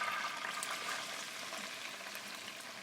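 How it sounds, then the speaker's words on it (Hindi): Okra frying in hot ghee for masala bhindi, a steady broad sizzle with light crackle holding at an even level throughout, no voices. "यहाँ पर हमारा जो घी है वो गर्म हो गया। अब बिस्मिल्लाह करके क्या करेंगे, भिंडी को इसमें डाल देंगे।"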